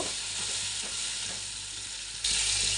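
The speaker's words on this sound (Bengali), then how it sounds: "এখন আবার মশলাটা দিয়ে দিলাম দিয়ে আবার একটু কষিয়ে নেব" Spice paste with turmeric and salt fries in oil in a pan, a continuous close sizzle with faint stirring scrapes that jumps louder and brighter near the end.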